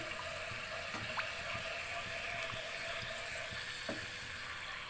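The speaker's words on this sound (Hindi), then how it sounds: "जब तक ये हमारा मसाला फ्राई हो रहा है" Garlic ginger paste fries in a pan for an egg potato curry, giving a steady, even sizzle with no lulls, moderately quiet and heard alone.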